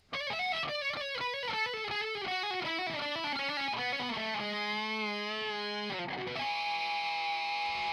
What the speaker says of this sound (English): without all the effects, it sounds like this, that little run